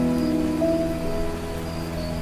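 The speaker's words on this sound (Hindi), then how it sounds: "वह बारिश बंद होने का इंतजार करने लगता है।" Steady rain falls through a Hindi cartoon ghost story, a constant hiss of drops with faint tonal background music and no voices.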